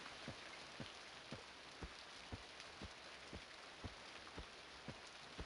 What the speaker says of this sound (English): Looks like it's raining out here